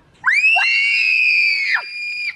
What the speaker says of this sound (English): That's not a roar. That was a scream.